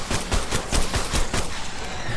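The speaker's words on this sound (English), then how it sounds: "now what I'm gonna do is I'm gonna shoot this scorpion here a couple of times" Gunfire in ARK: Survival Evolved as a player shoots a scorpion in a swamp cave, a rapid string of loud, close, evenly spaced shots.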